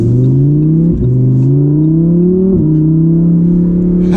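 A Lamborghini Huracan Evo engine driven in manual mode, loud and close from inside the car, rising steadily in pitch through the gears with two quick shifts where the tone drops and climbs again.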